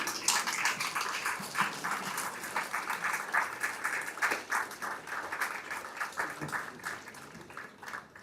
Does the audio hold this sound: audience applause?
yes